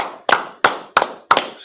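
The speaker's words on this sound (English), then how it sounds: "Clap it up." Congregation at a Sabbath service clapping in unison, four loud, sharp group claps in a steady, evenly spaced rhythm, each with a short room echo trailing off.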